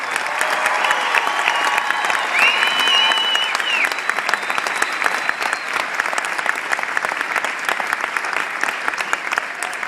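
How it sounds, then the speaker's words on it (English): A crowd in a school gym applauds the marching band, loud, continuous clapping that carries a few whoops and cheers near the start and holds steady for about ten seconds. "One more round of applause for our marching band."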